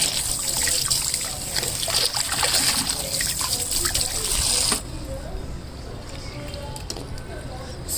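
Running water streams steadily while hair is rinsed after washing, a close, continuous trickle and splash that drops to a softer flow partway through.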